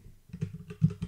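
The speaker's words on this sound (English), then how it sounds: "type in the password" Computer keyboard keys tapped in quick, uneven bursts while a password is entered at a Linux terminal, close and clear with no voices.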